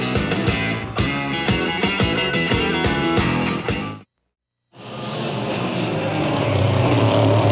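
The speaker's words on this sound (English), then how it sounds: "Great street racing through the streets of Des Moines" SCCA Trans Am race cars from the 1991 Des Moines street-course Grand Prix roar past in loud, revving bursts with rhythmic gear changes, then cut out briefly before the engines return in a steady, growling wash.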